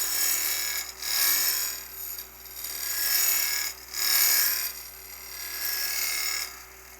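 A spindle roughing gouge cuts side grain on a wood lathe, making a loud, steady scraping hiss in repeated passes with brief dips between strokes.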